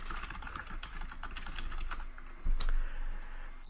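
Typing a funnel name on a computer keyboard: a steady run of quick, light key clicks close by, with a slightly louder cluster of strokes near the end and no voices.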